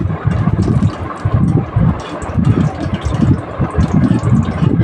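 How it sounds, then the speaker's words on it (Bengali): Dry red chili and black cumin seeds sizzle and crackle in hot oil, a loud, steady, dense frying hiss with bubbling bursts and no voices. "আমি ভালোভাবে শুকনো লঙ্কা আর কালো জিরে ভালোভাবে ভেজে নেব"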